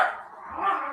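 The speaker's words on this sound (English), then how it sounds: "there goes your dog." A dog gives a short, single bark-like yelp, fairly close and moderately loud, lasting about a second.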